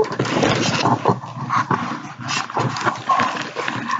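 A pet dog moves around indoors close by, with a steady stream of shuffling, scratching and tapping paw noises and the occasional soft whimper or grumble.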